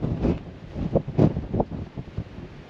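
Breezy wind buffets the microphone on the Gragareth ridgeline in the Yorkshire Dales, coming in uneven gusty bursts with low rumbling thumps, close and fairly loud, with no talk.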